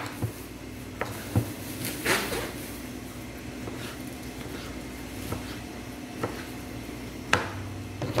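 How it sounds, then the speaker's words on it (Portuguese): A knife chopping tomatoes on a cutting board in a few spaced, sharp taps, with a quiet room hum underneath. "a gente vai começar picando o tomate"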